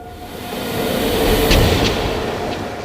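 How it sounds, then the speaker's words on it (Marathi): An express train rumbles past a station platform nearby with a steady roar that swells in the middle, brief high squeals of wheels or brakes cutting through. "दुसऱ्या बाजूच्या प्लॅटफॉर्मवर धडधडत एक एक्सप्रेस आली"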